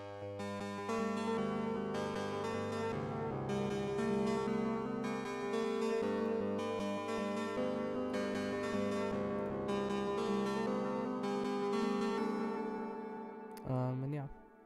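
Beat melody processed with Gross Beat, a high-pass filter and stereo delay plays as steady layered synth chords with rhythmic gated chopping, continuous and alone until a brief glitchy sweep near the end.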